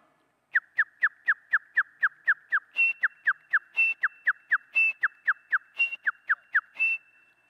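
A person whistles a rapid run of about twenty short, sharp notes, with a few higher-pitched ones mixed in, close and alone against silence.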